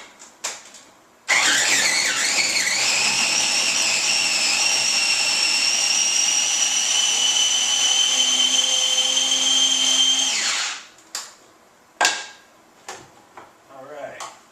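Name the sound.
food processor chopping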